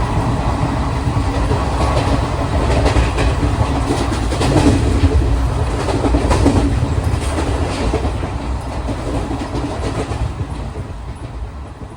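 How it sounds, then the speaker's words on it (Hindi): Express sleeper-class train between Varanasi and Ranchi running at about 110 at night, heard from inside as a loud, continuous rumbling roar with rhythmic clickety-clack of the wheels and vibration, steady throughout with no talking. "रात के वक्त में ट्रेन जब 110 की रफ्तार में चल रही थी तो अजीब सी कंपन जो है वो हो रही थी"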